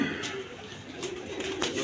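Pet pigeons coo softly in a home loft, with low, faint repeated coos over a steady background hiss and no clear talk.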